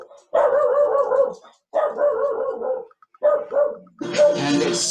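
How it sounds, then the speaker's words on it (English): Dog barking in three long bursts of rapid, overlapping barks with short pauses between, loud and close, ending in a rougher, noisier outburst. "And excuse the dog."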